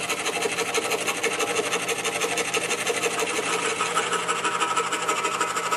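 A scroll saw cuts a thin-walled wood portrait piece with a steady, fast buzzing reciprocation, close and continuous without pause or talk.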